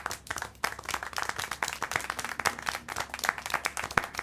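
Clapping applause in a video game comes as a dense, continuous patter of many hands, fairly quiet and even for about four seconds.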